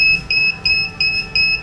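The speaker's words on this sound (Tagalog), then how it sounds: "Mag-a-alarm na to. Ibig sabihin, hanggang doon na lang at mamamatay na yung mga heater" A powder coating oven's timer alarm beeps in a steady repeating pattern of high electronic tones over a low background hum as the heaters shut off.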